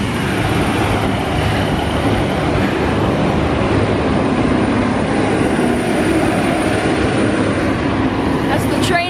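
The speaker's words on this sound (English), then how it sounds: "That's the train I just missed." A train rumbles steadily past a suburban commuter station on the way to Melbourne, a loud, broad continuous roar that holds level throughout with no pauses.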